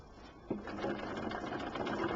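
Sewing machine stitching through a quilt, a fast steady close mechanical whir that starts after a brief quiet moment and runs on evenly.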